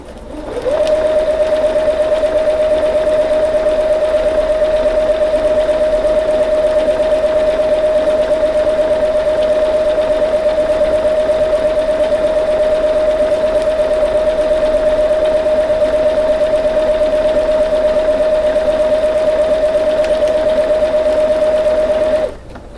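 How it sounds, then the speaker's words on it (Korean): A Lion The Style 50 home sewing machine stitches decorative pattern 22 with a clear satin presser foot, a loud, steady mechanical whir with a sustained tone that runs unbroken for about twenty seconds before stopping. "장식용 무늬 22번을 맞춰서 박음질 해보도록 하겠습니다."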